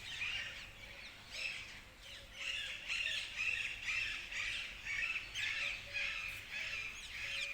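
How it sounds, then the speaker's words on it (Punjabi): Several birds squawk and caw repeatedly outdoors just after rain, overlapping calls rising and falling steadily over a faint background hiss. "ਪੰਛੀਆਂ ਦੀਆਂ ਆਵਾਜ਼ਾਂ ਅੱਜ ਸੁਣਨ ਨੂੰ ਮਿਲ ਰਹੀਆਂ ਨੇ"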